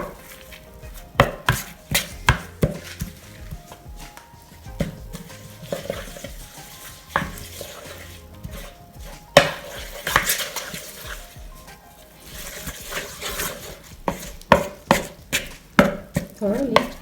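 A utensil works through a meatball mixture of beef and cheese in a bowl, giving repeated close clacks and soft knocks in an uneven rhythm, with no voices over them.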